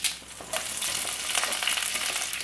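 Curry leaves sizzle and crackle in about two tablespoons of hot oil in a kadai, starting as a burst of spitting and settling into a steady, close frying hiss with scattered pops, no voices.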